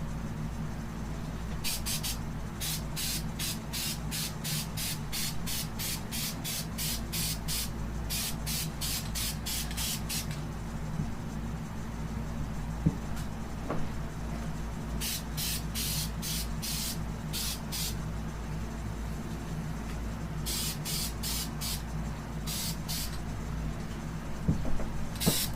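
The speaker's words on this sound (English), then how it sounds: "I just spray painted my shirt." Short repeated hissing bursts from a spray paint can come in clusters with pauses between, over a low background rumble.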